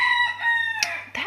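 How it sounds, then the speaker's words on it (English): A rooster crows nearby in a long, strained, harmonic call that breaks into rougher notes near the end, loud and clear with no talk over it. "rooster's really persistent today"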